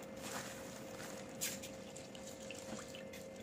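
Water runs and splashes steadily over chana dal set to soak, a soft continuous rushing pour with a small splash partway through, faint and close.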